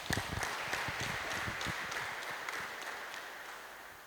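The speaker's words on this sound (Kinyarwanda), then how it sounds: "Muntize amashyi twongere tumushimire." A church congregation gives a burst of applause, with many hands clapping in dense, uneven patter that starts strong and gradually thins out over a few seconds.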